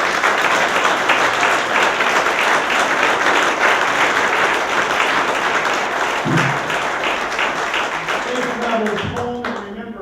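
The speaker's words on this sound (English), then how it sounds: "let's give one last round of applause" An audience gives a sustained round of applause at the close of an evening program, dense and steady clapping filling the room before thinning out near the end, where a voice briefly speaks.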